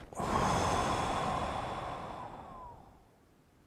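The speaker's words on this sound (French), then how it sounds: "Alors une respiration" A single deep breath drawn in close to the microphone, a long broadband rush that swells quickly, holds for about two seconds and then fades out, with no talking.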